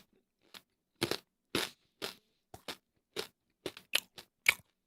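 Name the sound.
chewing crunchy shiitake mushroom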